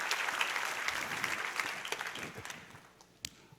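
A church congregation applauding after a pastor's call to praise, a dense wash of clapping that thins and fades toward the end, with one sharp clap standing out.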